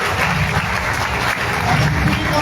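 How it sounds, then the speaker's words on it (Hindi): Loud, dense applause from an office crowd welcoming a new company head, continuous and close throughout, no talk. "सर के लिए जोरदार तालियां होनी चाहिए।"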